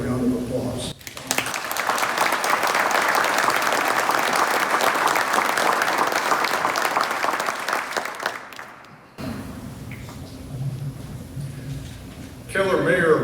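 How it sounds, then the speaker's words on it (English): An audience at a Field of Honor opening ceremony breaks into sustained, loud applause that fades away, leaving quieter crowd sounds and talk at the end. "Please give them all a big round of applause."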